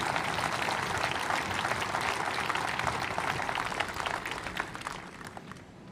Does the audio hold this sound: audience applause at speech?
yes